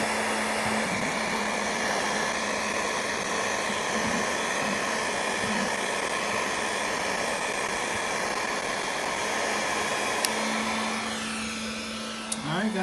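A heat gun running steadily while installing a car stereo, a loud continuous blowing whir with a faint hum, holding level throughout and dropping slightly near the end.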